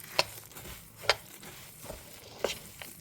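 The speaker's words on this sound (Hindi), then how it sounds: "चलाते हुए हमको मिक्स कर लेना है।" Roasted dry fruits and seeds are stirred in a pan for a homemade jaggery energy bar, giving a few sharp scraping strokes with a faint sizzle between them, fairly quiet with no talking.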